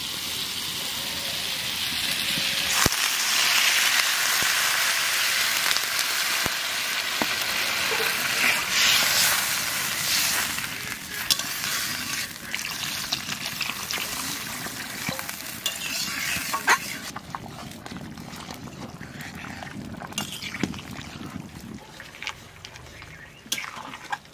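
Potatoes sautéing with spices in a pan for a bhetki fish curry, a steady loud sizzle and fry hiss running throughout, with occasional stirring scrapes and clicks, close up and without speech.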